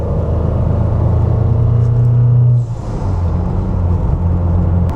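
A freshly rebuilt Ford Sierra Cosworth engine runs close by with a loud, steady low rumble, its tone dropping briefly before settling back into an even idle-like drone.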